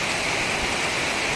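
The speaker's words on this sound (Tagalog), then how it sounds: "Hindi makagawa ngayon kasi maulan nga, ang lakas ng ulan." Heavy rain in Bacolod during flooding, a loud, steady wash of broadband hiss with no breaks or other distinct sounds.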